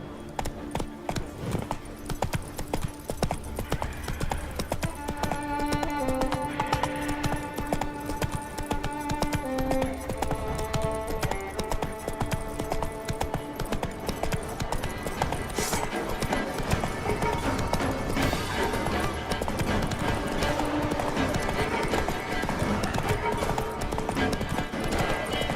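Roach, the horse in The Witcher 3, gallops with a rapid, steady clip-clop of hooves that runs through the whole stretch, mixed with game music and ambience, and a voice speaks briefly near the start.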